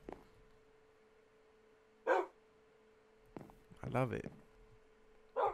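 Dogs barking in the Minecraft video game, a few short separate barks spread out over a steady background tone, with a person speaking briefly between them.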